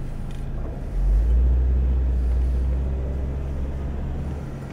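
A right-hand-drive postal delivery vehicle moves along in gear, its low engine drone swelling after a second and then holding as a steady, close rumble with no voices.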